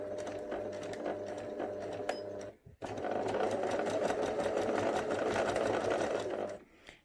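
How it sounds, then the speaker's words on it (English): A sewing machine stitches backwards off the edge of fabric while making a teddy bear, running in a steady close whir that stops briefly for about half a second, then resumes. "I'm going to do a few stitches backwards, which will just go off the edge of the fabric before I sew forwards"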